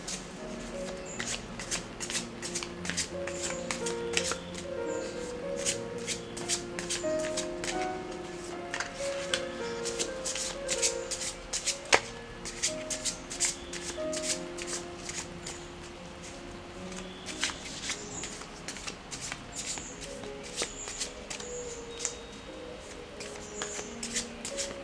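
A tarot deck shuffled by hand for a pick-a-deck reading, rapid riffling bursts of cards repeating in quick runs, close and fairly soft.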